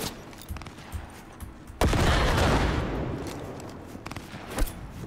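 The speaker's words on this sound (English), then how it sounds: "I'm using some grenades here" Grenade blasts in Cyberpunk 2077 burst into a loud, sustained roar of gunfire-like crackle that rumbles and slowly fades over a few seconds, with smaller pops and thuds before and after.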